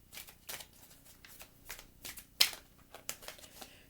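Tarot cards being shuffled by hand, a soft papery riffling in quick irregular bursts with one sharper snap, close and quiet with no talking.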